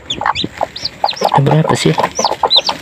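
Chickens cluck busily in a coop, close and loud, with a rapid run of clucks and squawky calls under a short spoken question.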